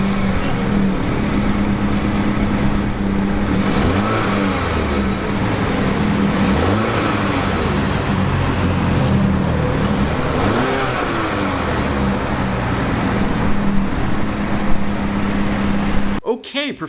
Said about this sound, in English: But let's give this engine a listen here.